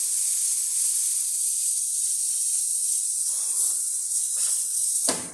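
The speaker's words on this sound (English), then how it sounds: "Beautiful strong steam, as you can see." Steam wand on a La Spaziale espresso machine, freshly serviced with its steam tube unclogged, hisses loudly and steadily at close range, ending with a brief sharp burst as it shuts off.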